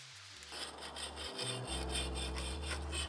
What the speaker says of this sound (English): First things first, strip the paint.